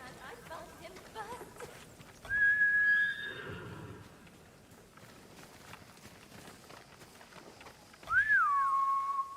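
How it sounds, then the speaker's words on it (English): In the game Ghost of Tsushima, hooves clop and a horse gives two loud whinnies a few seconds apart, while a quiet voice talks and a faint whistle-like tone sounds. "Horse!"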